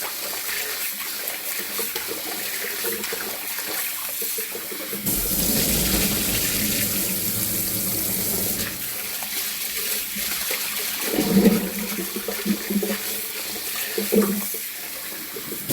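Rice is washed by hand in water in a kitchen while preparing bean sprout and radish rice, a soft continuous sloshing and swishing that swells into a louder running-water rush midway, then returns to quieter rinsing.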